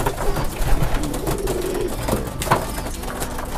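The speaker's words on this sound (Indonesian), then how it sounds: "Ini ada merpati ini warna putih juga." Pigeons coo in a crowded pigeon loft, a steady mass of soft, overlapping calls close by, mixed with faint rustling and background noise for the whole stretch.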